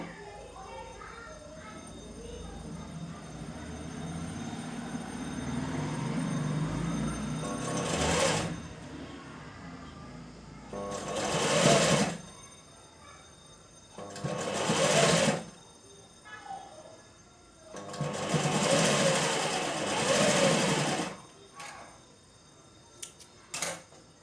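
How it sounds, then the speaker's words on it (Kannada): A sewing machine stitches fabric for a simple dori bell design in several bursts of rapid mechanical whirring, separated by pauses. Someone talks quietly between the runs. "ಅದೇ ರೀತಿ ನಾನು ಇನ್ನೊಂದು ಸೈಡಿಂದ ಏನೈತಲ್ಲ ಸ್ಟಿಚ್ ಹಾಕ್ತೀನಿ ನೋಡ್ರಿ ಈಗ"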